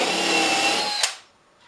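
Power drill boring a hole in wood with a flat spade bit, a loud steady whine close up that cuts off abruptly after about a second and leaves near silence.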